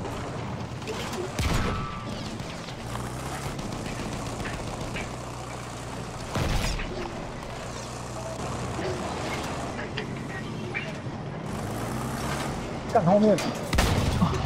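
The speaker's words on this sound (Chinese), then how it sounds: "他们有人用那个重机枪" Heavy machine gun fire and battle noise in Battlefield 1 on a mountain assault map, steady rumbling combat with occasional louder bursts and booms, while players talk over it.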